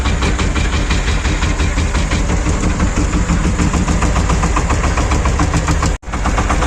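Shifeng 240 mini tractor engine runs steadily with a homemade sprayer attached, a loud continuous rumble with rhythmic knocking pulses, briefly cut off by a dropout near the end.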